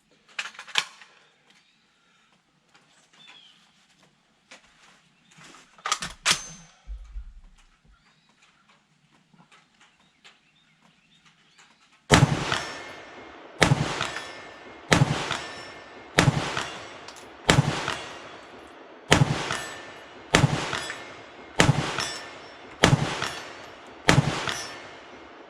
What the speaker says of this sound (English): So we're going to take this bad boy out and ring a bunch of steel